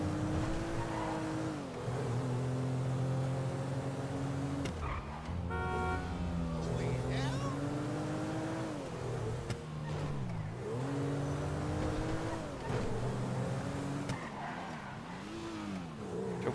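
A car in GTA V Online cruises and revs steadily, its engine tone rising and falling through gear changes with a brief tyre squeal, while a person talks faintly over it.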